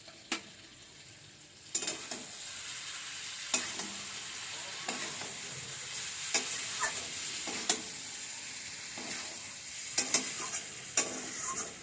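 Cashew paste goes into a frying spice mixture for aloo dum and is stirred, giving a soft steady sizzle broken by light scraping taps of a utensil against the pan.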